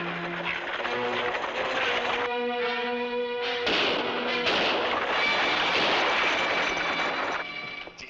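Rifle gunfire in an old frontier adventure drama, a steady loud roar of shots and blasts with tonal bursts woven through, continuous for several seconds before dropping off at the end.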